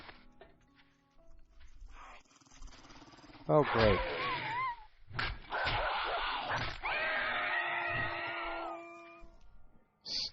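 Hostile dogs in the 7 Days To Die survival game snarl and growl in loud, rough bursts, with yelping, whining game-animal cries mixed in, while someone talks over the commotion.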